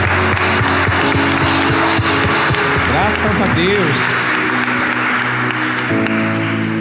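A church congregation applauds during a Sunday service, a steady wash of clapping that fills the space while a voice speaks over it and musical tones sound underneath.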